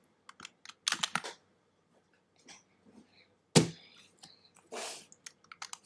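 Quick bursts of keys tapped on a computer keyboard come in uneven clusters with short pauses between them, fairly close and clear, with no talking.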